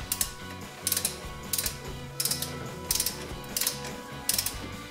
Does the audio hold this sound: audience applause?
no